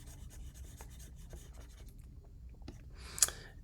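Writing being erased, close and quiet: soft scratchy rubbing strokes in short bursts, ending in a slightly louder scrub.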